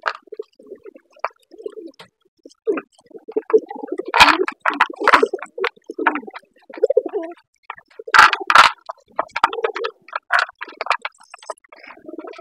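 Pigeons coo near the microphone in low, throaty bursts while eating feed from a tray, with soft squishy pecking and rustling between the calls and no talk.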